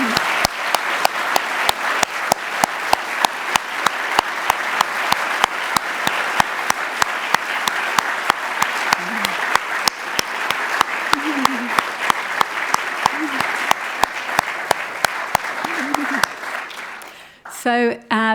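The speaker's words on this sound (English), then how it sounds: "please give her a very big round of applause" An audience at an evening climate change talk applauds steadily and warmly for about sixteen seconds, with a few voices faintly underneath. Near the end the clapping fades and a voice begins speaking.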